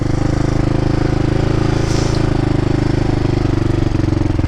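A Yamaha Raptor 660 ATV engine runs steadily and loudly up close, holding an even, throaty rumble for the whole stretch with no talking.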